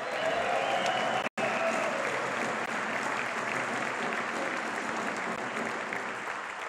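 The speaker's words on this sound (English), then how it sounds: "big round of applause for David Tepper" An audience applauding David Tepper at Charlotte's MLS expansion team announcement, sustained clapping from a large crowd that holds steady with a brief dropout early on, with faint voices beneath.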